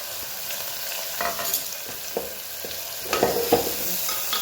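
Cumin seeds, asafoetida and green chili hit hot oil after mustard seeds, giving a steady close sizzle with a few stirring scrapes and crackles rising toward the end.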